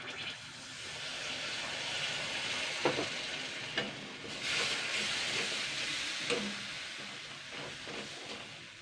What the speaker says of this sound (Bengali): এবার আমি এতে জল দিচ্ছি খুবই সামান্য